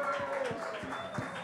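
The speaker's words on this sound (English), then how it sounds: "Big round of applause." A small audience at a craft brewing industry panel claps for a panelist, brief and modest clapping under a sustained tone and room noise.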